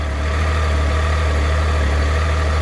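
A 2017 Triumph Tiger 800 motorcycle engine idles steadily at close range, a deep, even low rumble that holds without change and has no speech over it.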